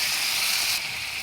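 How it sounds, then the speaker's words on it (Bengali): Chili and cumin hit hot oil for a fish curry, giving a loud, steady, bright hiss of frying that eases slightly after a moment, close up with no talking. "এবার আমি দিয়ে দেব মরিচ আর জিরে, তেলের মধ্যে রেখেছি দিয়ে।"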